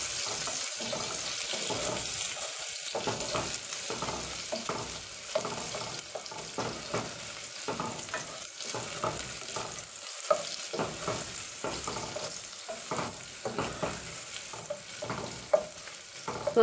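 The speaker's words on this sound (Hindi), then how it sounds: "अब हम इसमें प्याज डालेंगे। प्याज को फ्राई करेंगे।" Onions fry in about three tablespoons of hot oil, a continuous close sizzle with frequent stirring scrapes and clatters throughout, no voices.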